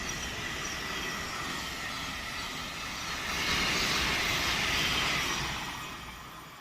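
A 12-car Class 700 electric train runs along the Midland Main Line at Elstree & Borehamwood with a steady rushing roar of wheels on rail. It swells as the train passes close, then slowly fades.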